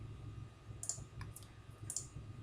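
A computer mouse clicking a few times on a quiet desk, two or three sharp isolated clicks spaced about a second apart over faint background hiss.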